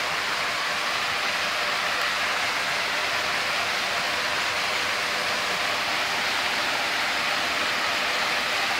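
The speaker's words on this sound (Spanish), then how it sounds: "Se ve el agua de una manera bien fuerte." Steady, loud rushing water roars without pause, a dense hiss of a strong river or rapids nearby, at El Tuncaj, Granados, Baja Verapaz.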